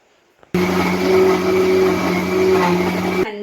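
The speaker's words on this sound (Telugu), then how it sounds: "అందుకనే పప్పులు అయితే మిక్సీ పడుతున్నాను" A kitchen mixer grinder (mixie) grinding lentils starts abruptly after a moment of quiet, then runs as a loud, steady motor whir with a strong hum for about three seconds before cutting off.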